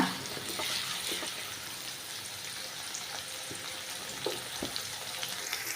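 Onion frying in a pan for a cabbage and chicken curry makes a quiet, continuous sizzle, with faint stirring clicks now and then.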